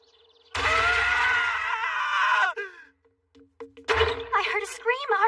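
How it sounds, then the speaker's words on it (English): A young woman's high, drawn-out scream in an anime scene, loud and sustained for about two seconds, then breaking off; after a short pause, excited voices follow. "I heard a scream."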